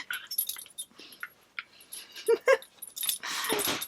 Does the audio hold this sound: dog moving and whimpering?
yes